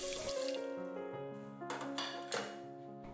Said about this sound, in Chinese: 350克绿豆倒入锅里清洗干净